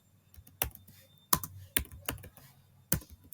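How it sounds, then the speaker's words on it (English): Keys clack on a computer keyboard as a MySQL command is typed: about six crisp, separate strikes spaced irregularly over a few seconds, close and clear against a quiet room with no talking. "Okay, so I just write the command create"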